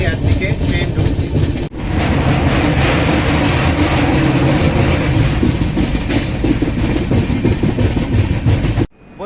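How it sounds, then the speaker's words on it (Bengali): Tamralipta Express, an AC train from Howrah to Digha, rolls into Uluberia station with a loud, continuous rumble and rhythmic clatter of the cars, cutting out abruptly near the end. "এবার উলুবেড়িয়ার দিকে ট্রেন ঢুকছে"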